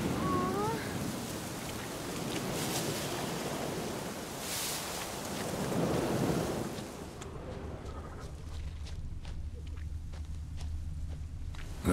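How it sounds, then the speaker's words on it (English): Steady hiss of heavy rain in The Witcher 3: Wild Hunt fills the first part, then thins to a quieter patter with scattered drops and light taps. "Looks like rain."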